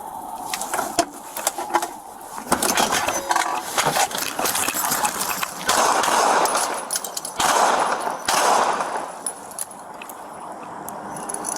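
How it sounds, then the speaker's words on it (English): Gunshots ring out during a police response to a dog-bite call, with rapid cracks and bursts of fire mixed with clattering and outdoor noise that stays loud and dense throughout. "shots fired, shots fired"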